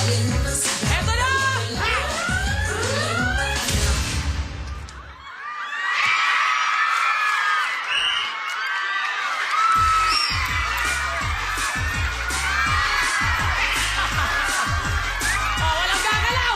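A studio audience on a Filipino TV game show cheers, whoops and shouts loudly and continuously, with a host's voice calling out over the excited crowd noise.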